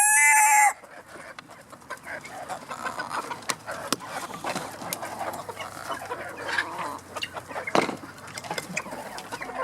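A flock of chickens clucking in a backyard pen as new birds join older ones, a rooster's crow opening before busy overlapping clucks and scratchy rustling carry on close by.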